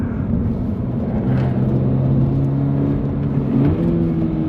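A 2023 Subaru BRZ engine blips and revs during a heel-toe downshift, with steady harmonic engine tones stepping up in pitch as the revs rise under continuous road and cabin noise.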